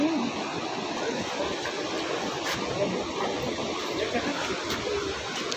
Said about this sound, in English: You see Sethi river, it is flowing very rapidly from Himalayan mountains.